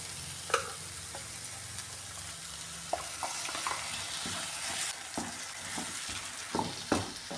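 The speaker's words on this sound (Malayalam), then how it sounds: "ഇനി ഈ അരച്ചു വെച്ചിരുന്ന തേങ്ങ ചേർത്ത് കൊടുക്കാം" Ground coconut paste being stirred into sautéed tomatoes in a pan for a Kerala papadam curry, giving a steady soft sizzle with scattered scraping and clinking spoon strokes throughout.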